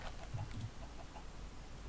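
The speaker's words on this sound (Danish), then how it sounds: "Kom kyllinger." Minecraft chickens give a few short, soft clucks in quick succession over low background noise, faint and brief, with no talk.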